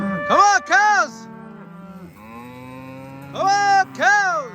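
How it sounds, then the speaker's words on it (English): Cattle on a farm in upstate New York moo repeatedly nearby, with short loud calls at the start and end and a longer, lower moo in between, while a person's voice is faintly heard calling. "Come on, cows! Here they come."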